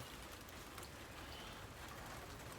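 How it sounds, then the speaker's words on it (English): Steady rain patters outdoors as a faint, even hiss across a short stretch, with no voices. "This rain slows down a little, so even better."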